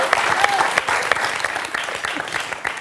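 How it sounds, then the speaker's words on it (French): Studio audience applause on a French TV quiz show, a brisk round of clapping with distinct sharp claps standing out from the crowd. "Ça s'applaudit"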